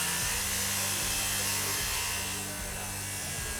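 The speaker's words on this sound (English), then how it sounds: "So just making cross cuts on this material, it stresses out the blade, it heats up." A Diablo circular saw blade cross-cutting dense material, a loud, steady, close whine and grind that holds for a few seconds with small dips in pitch as the blade loads.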